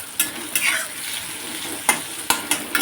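A tempering sizzles in hot oil under a continuous frying hiss, punctuated by several sharp scrapes and clacks of a spoon stirring in the pan, close and fairly loud.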